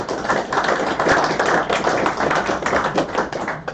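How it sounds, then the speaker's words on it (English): Dense applause from an audience at a Bristol Motor Club awards night, many hands clapping steadily and close for the whole few seconds. "So we'll give him a round of applause."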